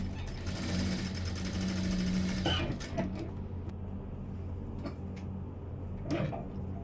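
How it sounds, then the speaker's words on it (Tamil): A sewing machine stitches the front part of a blouse with a close, steady mechanical whir for about two and a half seconds, then stops, followed by a few faint clicks and handling sounds. "இதுக்கு இன்னொரு தையலும் இப்போ போட்டுடலாம்"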